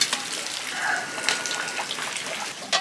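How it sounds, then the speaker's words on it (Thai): Water bubbles and hisses at a rolling boil in a pot, a steady close-up seething with small pops throughout. "น้ำเดือดแล้ว"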